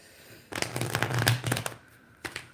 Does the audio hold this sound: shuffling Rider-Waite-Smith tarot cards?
yes